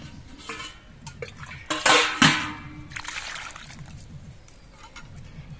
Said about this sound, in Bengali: সবজিগুলো কেটে নেওয়া হয়ে গেছে এবার সবজিগুলো ধুয়ে নিতে হবে